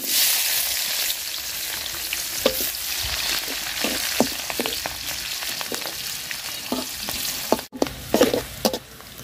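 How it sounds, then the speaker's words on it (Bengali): Chopped onion and chili fry in a pan after fish has been fried in it, giving a continuous close sizzle broken by repeated spatula scrapes and knocks, with no voices. "পেঁয়াজটা লাল লাল করে ভাজা নিছি"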